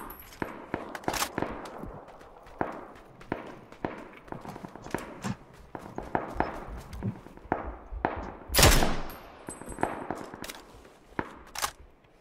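Rapid gunfire in a 4-vs-4 PUBG match on the Erangel map, repeated sharp shots in bursts and single cracks, with one louder, closer blast near the end and occasional footsteps between.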